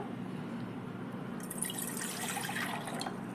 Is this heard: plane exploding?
no